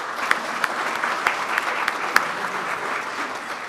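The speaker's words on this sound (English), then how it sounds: "let's give Tim a round of applause and thank him." A room of attendees at a Rotary club meeting claps for a speaker, a steady patter of applause with a few louder nearby claps, lasting throughout without speech.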